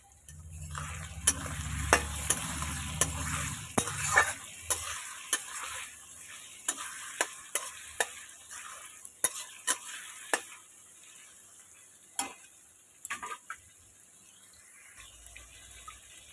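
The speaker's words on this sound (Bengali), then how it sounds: "চিংড়িটাকে প্রথমে আমি হলুদ লঙ্কা লবণ দিয়ে মাখিয়ে রেখেছিলাম তেলের উপর, দিয়ে ভালো করে ভেজে নেব।" Prawns marinated in turmeric, chili and salt fry in oil, giving a soft sizzle that is louder at the start, then quieter, broken by sharp taps and scrapes of a spatula against the pan.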